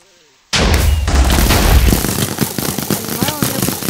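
Gunfire in Minecraft PvP on the VimeWorld server: a dense, loud run of sharp game shots and booming impacts that starts abruptly and keeps going, with a voice speaking over the barrage.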